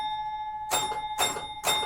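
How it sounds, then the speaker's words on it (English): A pinball machine's bell rings out loudly three times in quick succession, each bright metallic strike ringing on over a steady electronic hum. "It's also a very loud bell system."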